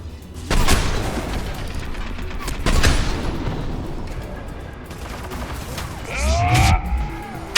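A mounted turret fires in Mass Effect 3, with heavy booming shots landing near the start and again midway, the echoes rolling off, then a further loud blast mixed with swooping effects near the end.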